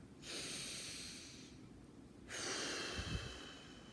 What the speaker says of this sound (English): I was breathing in through the nose and out through my mouth